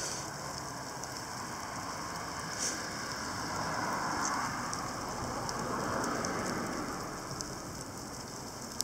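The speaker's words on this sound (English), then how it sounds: "You're getting some serious ice pellets." Ice pellets driven by strong winds during an arctic front arrival patter densely and continuously outdoors, a steady hissing rattle with a faint whooshing wind underneath.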